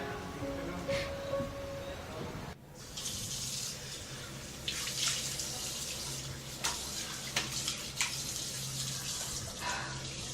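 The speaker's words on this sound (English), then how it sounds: "The classic splashing water on your face scene." Running water from a tap splashes and gushes steadily, with scattered sharper splashes as water is scooped and thrown onto a face; nearby and moderate in level.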